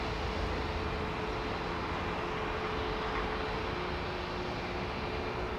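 A Qatar Airways Airbus A350 jet at Heathrow Airport gives a steady, broad roar that holds at an even level throughout and sounds moderately distant, with no talk over it.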